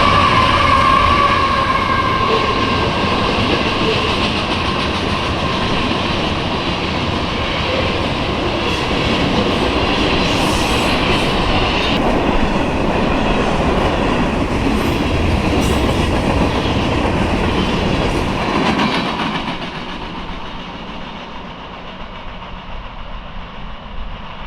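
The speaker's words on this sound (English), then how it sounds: "the train was a CN manifest with 2 Tier 4 GEVOs." A CN manifest freight train hauled by two Tier 4 GEVO locomotives passes close by, a loud sustained rumble and rolling clatter of wheels that carries on for a long stretch before dropping away at the end.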